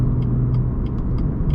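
A 2017 BMW M2 with a manual gearbox pulls hard in third gear up an on-ramp, its engine a steady low drone heard from inside the cabin, with faint higher ticks recurring over the hum.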